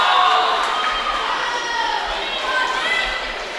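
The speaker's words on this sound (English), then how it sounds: "Cheering him on." An indoor high school swim meet crowd cheers on a swimmer finishing a race at a CHS dual meet against Centerville and Seton Catholic, a steady, echoing wash of voices and shouts that holds loud for a few seconds.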